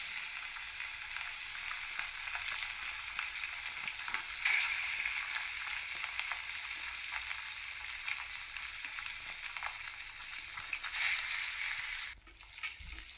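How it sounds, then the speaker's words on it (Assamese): Pieces of fish, set out alongside chopped chillies, half-frying in a pan for a fish curry, with a steady, dense sizzle throughout and a few louder crackles. "মাছ কেইপিচ মই ফ্ৰাই কৰি লওঁ।"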